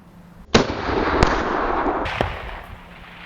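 A single sharp, loud AR-15 rifle shot firing 75-grain match ammunition at a steel plate 515 yards away outdoors, with a crisp crack followed by a long rolling echo that fades over a few seconds.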